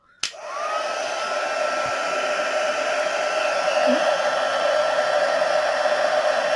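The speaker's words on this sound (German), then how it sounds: "Dann kann ich das hier ganz entspannt föhnen." A hair dryer blows steadily at close range to heat-emboss a stamped card for an emboss-resist watercolor technique, starting with a click and holding a loud, even whoosh throughout with no talking.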